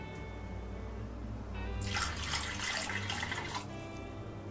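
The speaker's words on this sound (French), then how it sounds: "et un filet d'eau." A thin stream of water poured into a poultry-stock sauce with exotic fruit juice and ginger sticks, a bright steady splashing pour lasting about two seconds over a low background hum, with no talking.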